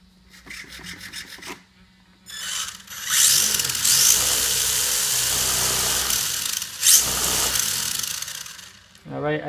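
A 3Racing Sakura FGX RC car on a 2S battery takes a test run, its motor whirring up loudly after a few soft handling clicks, holding a steady high buzz with a brief surge before cutting off.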